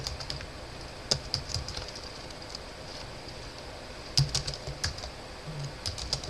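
Keyboard typing while text is entered into an online membership profile form, with short bursts of quiet clicking keystrokes separated by pauses over a faint background hiss.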